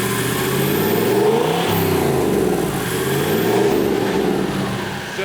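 A Toyota FJ49 engine revs steadily, a loud, close, sustained throaty drone that swells and eases slightly in pitch without dropping to idle.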